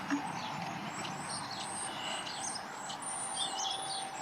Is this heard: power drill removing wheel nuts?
no